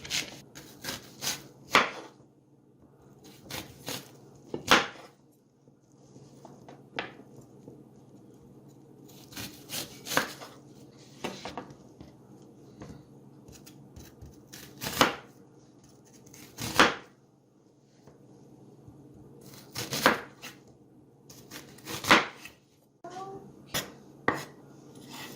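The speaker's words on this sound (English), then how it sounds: "we are going to proceed and just slice our onions" A knife slices onions on a cutting board, giving a run of sharp chops and taps in irregular clusters that stand out against a quiet room.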